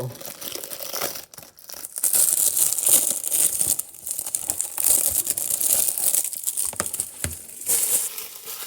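Plastic shrink wrap being peeled and crinkled off a Blu-ray case, close and loud, with bursts of crackling and tearing in an uneven rhythm and brief pauses between pulls.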